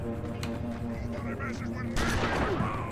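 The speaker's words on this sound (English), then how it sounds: "Okay, he shot me from all the way over there." Enemy gunfire in the video game Oddworld: Stranger's Wrath, a sudden loud volley with booming shots that cuts in over steady game background sound and speech.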